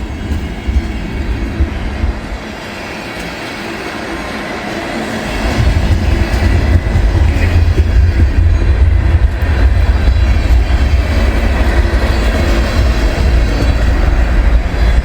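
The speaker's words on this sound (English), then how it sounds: "Nice long train." A long freight train rolls past after a snowfall with a loud, steady rumble and rattle of wagons, the heavy low roar growing stronger midway and continuing without a break.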